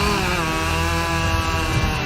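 A Stihl chainsaw runs at full throttle through wood in a timed cutting test, its loud, steady, buzzing engine whine continuous and close for the whole stretch, with no voices over it.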